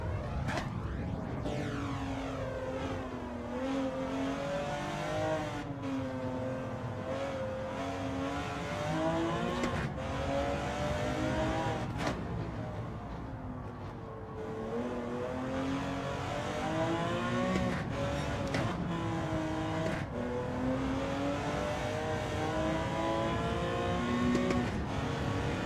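A race car engine in Gran Turismo 7 during a licence test, revving loud and close throughout, its pitch rising and falling steadily with gear changes and throttle lifts, and no talk over it.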